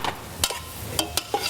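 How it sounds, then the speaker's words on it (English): Mushrooms browning in a pan are stirred, giving a few brief scraping clicks over a soft, steady sizzle, close and moderately quiet. "So I'm just going to give this a stir."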